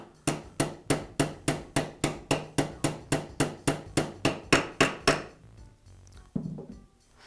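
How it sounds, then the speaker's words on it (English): A hammer taps new bearings into place on a Makita belt sander during repair, about sixteen sharp, evenly spaced metallic knocks close up, then a pause and one last softer knock. "I'll tap the bearings into place until they stop moving."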